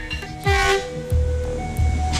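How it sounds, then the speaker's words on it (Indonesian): A train runs along railway tracks beside homes, its horn sounding in several loud blasts over a rumbling, close passing roar. "suara rel kereta api ketika kereta akan mendekat"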